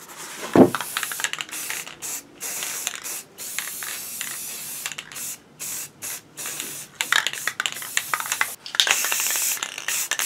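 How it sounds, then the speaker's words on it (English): Flat white base coat is sprayed from a paint can onto a Y-wing helmet prop, in a series of loud, close hissing bursts separated by short gaps, with a sharp clack near the start. "now I'm going to give this a base coat of flat white"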